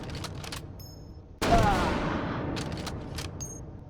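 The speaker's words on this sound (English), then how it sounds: "These guns go big kaboom." Loud burst of explosive gunfire from guns firing explosive rounds in the VR shooter game H3VR, a sudden heavy blast that then rolls off into a long decaying rumble.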